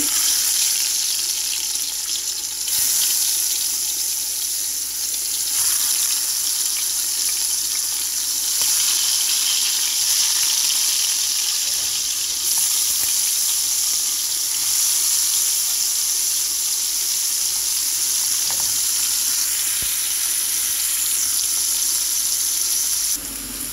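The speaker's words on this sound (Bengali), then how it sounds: "এখন আমি এই চিংড়ি মাছগুলো এখানে তেল দিয়ে দিচ্ছি ফ্রাই প্যানে।" Shrimp fry in oil in a frying pan with a continuous, loud sizzle and crackle that runs without a break. No one speaks.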